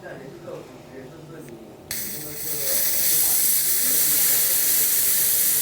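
A high pressure 4500 psi compressor tank releases air once its bleed screw is loosened: after a quieter stretch with a voice, a sudden loud hiss bursts in and continues steady.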